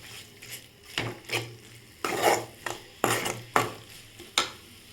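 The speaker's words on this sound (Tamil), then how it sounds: "எல்லாத்தையும் சேர்த்து நல்லா மிக்ஸ் பண்ணிவிட்டு நல்லா வதக்கிக்கோங்க." Egg pasta masala being stirred and sautéed in a pan, with a spoon scraping and knocking against the metal in a series of distinct strokes over a faint background sizzle, close and moderately loud, no talking.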